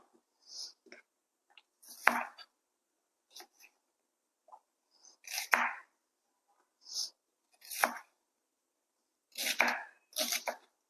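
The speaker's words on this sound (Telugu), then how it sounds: "ఇప్పుడు ఈ ఉల్లిపాయ వచ్చేసి మనం నాలుగు ముక్కలుగా కట్ చేసుకొని" A knife cutting an onion into four pieces on a board in a home kitchen, several sharp, separate, crisp chops with short gaps between them, close and fairly quiet, with no talking.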